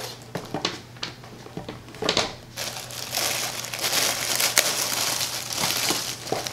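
Paper crinkling and rustling while a subscription box is unboxed, starting as scattered crackles and handling taps, then turning into continuous close crumpling for several seconds.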